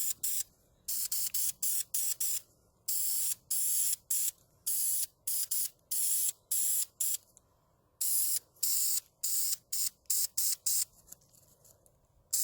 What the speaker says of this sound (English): Spray paint from kind of far away.